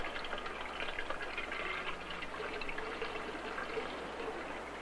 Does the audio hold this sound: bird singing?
no